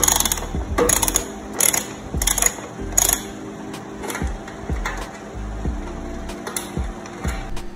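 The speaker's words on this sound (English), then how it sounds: "Once you have loosened the nuts with size 13 torque wrench," A size 13 torque wrench loosens the nuts on the filter-bag tension frame of a Wieland VacPro 16 industrial vacuum, giving sharp ratcheting clicks and metallic knocks in irregular clusters, loud and close.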